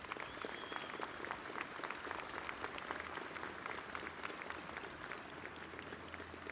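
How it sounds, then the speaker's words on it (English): Steady, even applause from a large crowd at the FDNY Medal Day ceremony, honoring a fire captain, heard fairly softly and sustained throughout with no talking over it. "Let's give him a round of applause."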